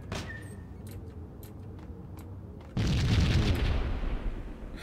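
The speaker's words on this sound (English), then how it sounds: "Bombs are going off." Bombs going off in the Max Payne video game: scattered sharp pops and thuds, then a sudden loud booming blast with a rumbling, crackling tail that slowly fades.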